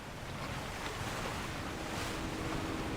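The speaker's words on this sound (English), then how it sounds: "The wind and waves are intensifying." Gusting wind and rolling ocean waves surge around a ferry in the video game Love and Deepspace, a steady, dense rushing wash that builds slightly in strength, with no voices over it.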